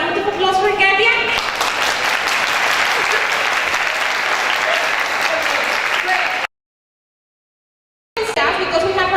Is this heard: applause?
yes